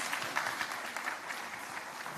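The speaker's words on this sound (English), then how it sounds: "Yes, we can give him a big round of applause." An investment conference audience gives a round of applause to a provincial premier, a dense wash of clapping from a large hall, steady and moderately distant throughout.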